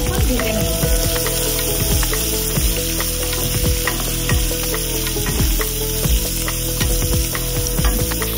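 Chopped onions frying in hot oil with a pinch of asafoetida, a steady close sizzle under occasional stirring scrapes of a spoon against the pan.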